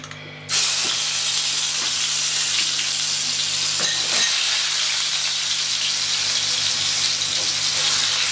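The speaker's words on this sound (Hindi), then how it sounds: "ऑयल गर्म हो गया, अब मैं इसमें प्याज डालूंगी" Onions hit hot oil with a sudden loud sizzle that settles into a steady, dense frying hiss, close and uninterrupted for several seconds.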